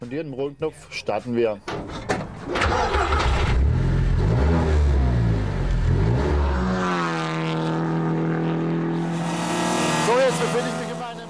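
A voice talks over rumbling, then a race car engine fires and revs loudly, pitch sweeping up and down as it settles into a steady, roaring idle.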